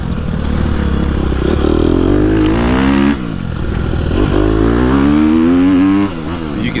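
A 2021 Gas Gas EX250F dirt bike engine pulls hard and loud through long gears, a steady close-up four-stroke roar with a brief dip between gears, no talk over it.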